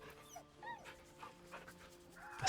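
Dog in the video game Baldur's Gate 3 whimpering softly, a few thin high whines and yips over a faint hum of game ambience, ending in a sudden louder rush.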